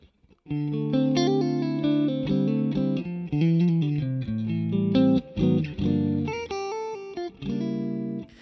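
An electric guitar plays a series of clean, ringing chords and notes with a bright tone and short pauses between phrases.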